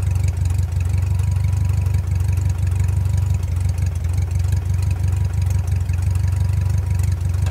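A small airplane's engine drones steadily and loudly before takeoff at a mountain airstrip, a constant low rumble with no pauses or voices.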